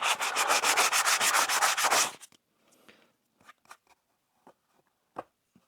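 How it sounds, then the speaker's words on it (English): A plastic-welded Plymouth Duster fan shroud is sanded by hand in a quick run of about a dozen close rasping back-and-forth strokes, followed by scattered faint taps and small handling noises. "When you start sanding this stuff, it does get hot, and it'll start balling up on you."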